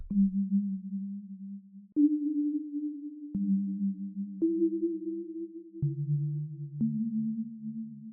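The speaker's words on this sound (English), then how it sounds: "I'm just going to add in a pad." A smooth sustained synth tone holding steady notes, changing pitch every second or so in a simple sequence, alone with no other sounds.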